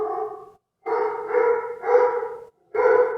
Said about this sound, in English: My dog is getting crazy.